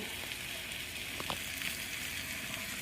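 Greens cooking down in a deep covered pot give a faint, steady hiss and sizzle with a few soft pops, close and alone.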